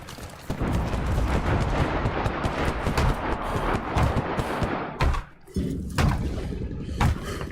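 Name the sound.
cannon fire in a video game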